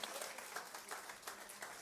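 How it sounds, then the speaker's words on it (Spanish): Congregation applause during a church service, faint and distant: a soft, thin patter of scattered hands, uneven and brief, with no voice over it. "Dele un aplauso al Señor"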